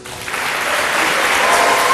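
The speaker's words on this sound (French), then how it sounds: "sous vos applaudissements" Audience applause swelling steadily and filling the hall, dense continuous clapping that builds over two seconds at a contest event.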